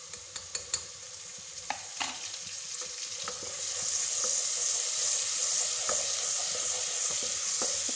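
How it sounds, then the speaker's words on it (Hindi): Ginger garlic paste, a spoonful added to browned onions, fries in a pan for a mutton and spinach curry, with a steady sizzle that grows louder partway through and a few sharp clicks of a spoon stirring. "अब मैं इसके बीच में डालूंगी 1 चम्मच अदरक लहसुन का"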